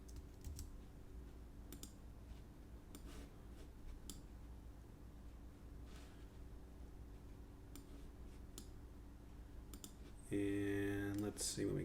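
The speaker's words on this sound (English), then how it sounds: "Type in my password." A password typed on a computer keyboard, sparse close key taps at an irregular rhythm over low room noise, ending with a louder tonal burst.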